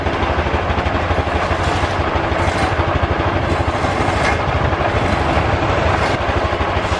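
A Honda Scoopy scooter with a sputtering, stalling fault runs at idle, its engine loud and close with an even, rapid chugging that holds steady and does not cut out.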